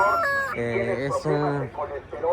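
Chickens and roosters call and cluck together at the poultry stalls of a town market day in Tlaxiaco, in Oaxaca's Mixteca region, a dense, close chorus of overlapping harmonic squawks and crowing.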